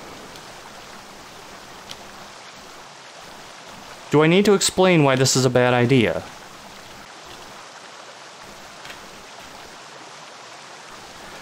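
A waterfall in a video game map makes a steady, faint rushing hiss throughout, and a voice talks over it for a couple of seconds.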